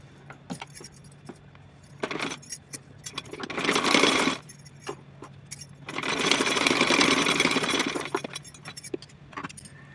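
A sewing machine stitches an elastic edge on a small cotton outfit for a Laddu Gopal idol, running in two sustained bursts with clicking and handling noises between them.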